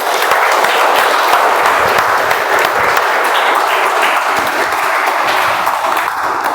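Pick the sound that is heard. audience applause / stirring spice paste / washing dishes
audience applause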